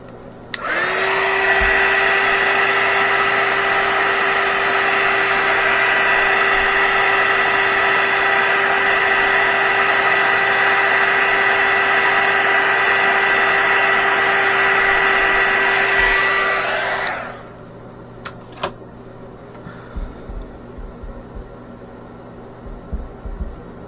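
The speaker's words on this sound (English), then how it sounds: "Try my heat gun first." A heat gun blows over curing resin film, a loud steady whirring hiss with a constant tone that runs about seventeen seconds before cutting off, followed by faint handling clicks.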